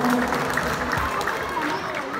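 Steady crowd applause fills the clip, a dense wash of clapping from many hands with a low murmur of voices mixed in.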